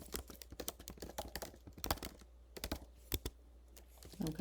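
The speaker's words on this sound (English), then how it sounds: "I'm just going to simply type in a few details here." Computer keyboard typing as billing details are entered, a quiet, close run of quick irregular key clicks with short pauses between bursts.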